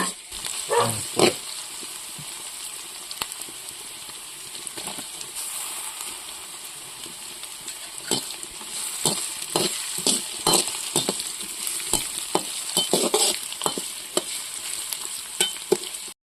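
Green chilies sizzle and crackle in hot oil while making fish curry, with intermittent clinks and scrapes of a spoon stirring the pan, close and moderately quiet.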